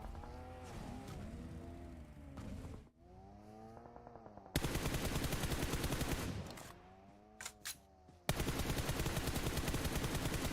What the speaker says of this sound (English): The shots continuing to fly on in.